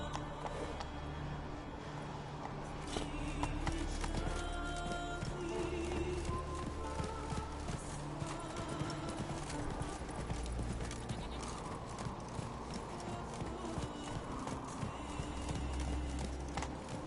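Roach, Geralt's horse in The Witcher 3 video game, gallops with a steady drumming of hooves that runs the whole time beneath game music and ambient noise.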